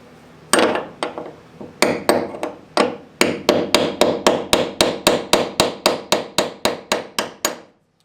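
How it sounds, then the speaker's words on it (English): Hammer blows on a chisel breaking a car body spot weld, a steady series of about twenty sharp metallic strikes at close range, irregular at first and then settling into an even rhythm, with no talking. "So what you want to rely on is maybe just chiseling it out nice and easy."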